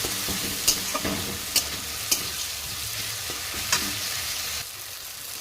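Spice paste with ground cumin fries hard in a pan, a steady loud sizzle broken by sharp scraping stir clicks every second or so, with no voices.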